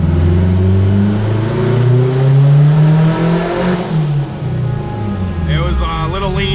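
A turbocharged Acura RSX engine revs hard on a dyno with VTEC engaged, its tone climbing loudly and steadily before dropping back, with a voice speaking near the end.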